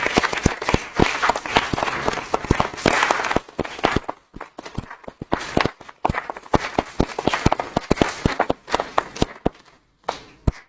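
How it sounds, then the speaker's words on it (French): Municipal council members applaud a retiring town hall employee, a loose, uneven clapping with bursts and brief lulls, close and fairly loud in the council chamber. "je voudrais qu'on l'applaudisse tous"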